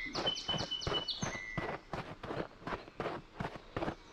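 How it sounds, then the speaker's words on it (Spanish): Birds chirping in the video game Lifeless Moon, a few bright high tweets near the start, heard over a steady rhythm of crunching footsteps that continues to the end. "¡Pajaritos!"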